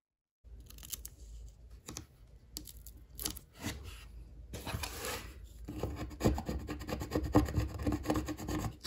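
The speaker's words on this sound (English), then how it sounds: "I'm using my little Cricut scraper to make sure it's on there all the way." Close, dry rasping and scraping as a small plastic Cricut scraper rubs grid-patterned transfer tape down onto permanent adhesive vinyl on a keychain blank, in irregular strokes that grow denser and louder toward the end.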